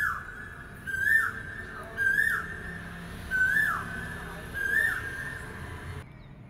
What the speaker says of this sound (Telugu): ఇంకా అరుస్తుందండి.